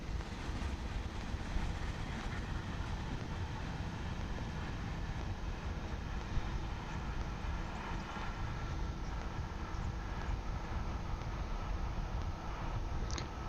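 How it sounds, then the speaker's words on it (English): Steady broadband wind roars across the microphone at a steam railway lineside location, a continuous rumbling gust with no clear breaks. "Very windy as well."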